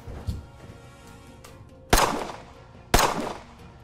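Two loud, sharp gunshots from a video game ring out about a second apart, each with a short decaying tail, after a fainter pop at the start.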